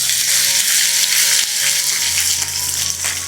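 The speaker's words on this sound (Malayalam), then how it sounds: "ചൂടായി കിടക്കുന്ന എണ്ണയിൽ ഇഞ്ചി ഇട്ട് കൊടുത്തത് കൊണ്ട് പെട്ടെന്ന് തന്നെ മൂത്ത് കിട്ടും." A tablespoon of chopped ginger frying in hot sesame oil with curry leaves, giving a loud, close, continuous sizzle that stays steady throughout with no talking.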